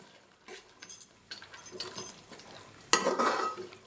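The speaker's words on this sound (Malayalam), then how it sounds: "എന്നിട്ട് നന്നായിട്ടൊന്ന് ഇളക്കി യോജിപ്പിക്കുക" A spoon stirring and mixing curry with sun-dried chillies in a pan, making close scraping strokes and clinks against the metal with a light sizzle, with no talking.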